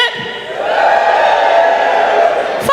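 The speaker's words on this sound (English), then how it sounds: "give me a cheer if you are in a relationship" Live wrestling event crowd in an arena cheering loudly and steadily, a sustained roar of voices with whoops that fades out at the end.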